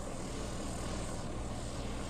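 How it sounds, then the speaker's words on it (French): Steady droning hum of a military drone flying overhead in Gaza, a continuous low engine buzz that holds evenly throughout with no pauses and no voices. "C'est là que j'ai compris que c'était un drone."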